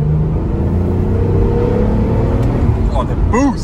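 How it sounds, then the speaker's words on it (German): A 30-year-old Nissan 300ZX twin turbo with a sound-deadened cabin and modified exhaust drones and revs from inside the car, a steady low rumble with a voice talking over it and brief pitch sweeps near the end. "Man hört hinten so das Dröhnen vom Auspuff."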